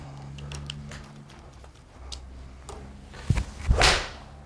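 A Mizuno golf club swings through and strikes the ball during a club fitting, giving a sharp whoosh and crack of contact followed by a second swish, fairly close, with faint background noise and no talk.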